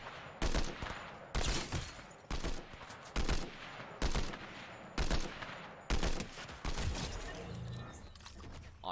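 Combat assault rifle fire in a shooter video game, loud repeated bursts of rapid shots separated by short pauses, several volleys in a row.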